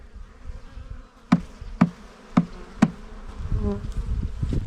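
Honey bees from a fresh swarm hum around a trap, a close, continuous drone rising in the last seconds, broken by four sharp knocks at a steady beat.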